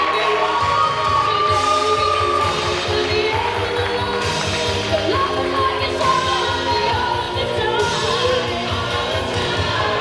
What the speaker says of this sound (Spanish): Vamos también a darle un fuerte aplauso a Mauricio Reséndez.